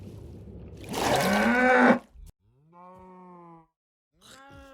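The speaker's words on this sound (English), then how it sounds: "I also brought over some cows with the leads and started breeding them" Minecraft cows being bred at a player's base, with a burst of noise followed by several clear, close, separate moos.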